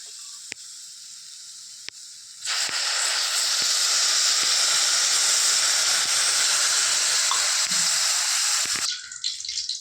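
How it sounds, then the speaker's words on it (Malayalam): Tamarind water poured into hot masala for pepper fish, a loud rushing hiss and sizzle that bursts in suddenly and holds steady for several seconds before dropping back to a quieter simmer. "ഈ പുളിവെള്ളം ഒഴിച്ച് കൊടുക്കാം ആദ്യം."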